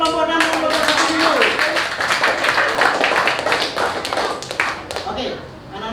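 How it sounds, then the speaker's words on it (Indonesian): Elementary school children clap in a classroom, a close, busy patter of hand claps mixed with voices and chatter before it tapers off. "Tepuk tangan untuk kelompok 6 dan kelompok 1 dulu."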